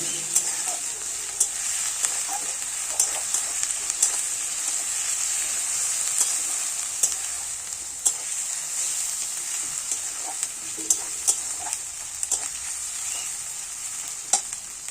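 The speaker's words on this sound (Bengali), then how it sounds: "রসুনটা দিয়ে ভালো করে আবার কিন্তু একটু ভেজে নেব" Onion and garlic paste frying in a pan for a potol and prawn curry, a steady close sizzle with repeated scraping stirs throughout, no talking.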